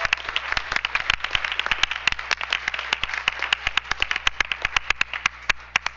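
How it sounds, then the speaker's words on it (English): An audience at a school board business meeting applauds in a short round, a close, dense patter of many hands clapping steadily for several seconds, with no speech over it. "So let's give him a round of applause."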